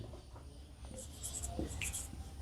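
A pen scratches out a maths answer on paper in soft, close strokes, faint and steady throughout.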